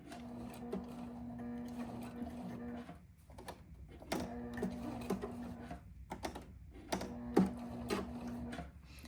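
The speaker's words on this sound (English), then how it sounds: "You can see I'm just doing one stitch at a time and then turning it a little bit, stitch another stitch, turning it a little bit." A sewing machine stitches a tiny teddy bear slowly, one stitch at a time, giving short bursts of mechanical whirring and needle thumps separated by brief pauses while the fabric is turned, close and clear.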